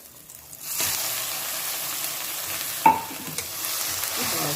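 Gongura chutney frying in a pan with urad dal, garlic and turmeric: a faint start, then a sudden burst of sizzle that holds steady, with a brief clatter near the middle, no talking.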